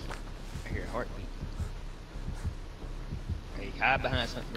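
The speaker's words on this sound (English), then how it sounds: "Killing close. I hear a heartbeat." Killer-proximity heartbeat warning in the video game Dead by Daylight: steady, deep, low thumps pulse in a regular rhythm over a humming background, with a voice talking in places.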